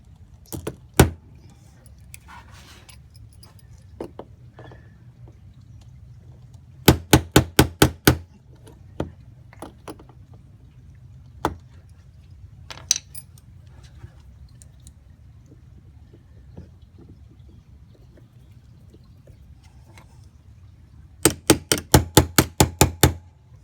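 Plastic trim pins are pushed into BMW X5 fender trim. Sharp, close clicks come singly and in quick clusters of five or six, with quiet pauses between them.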